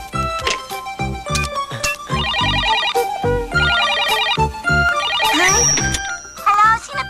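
A cartoon telephone rings in repeated electronic trilling bursts, loud and close, with short gaps between rings and brief speech-like sounds between them.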